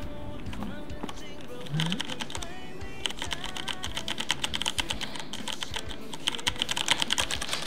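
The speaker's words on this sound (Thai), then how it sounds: "เดี๋ยวเรามาฟังเสียงคีย์บอร์ดกันค่ะ" Rapid clicking keystrokes on a MEKA G1 Prime mechanical keyboard, close and crisp, run in quick irregular bursts for several seconds, with a voice speaking briefly at the start.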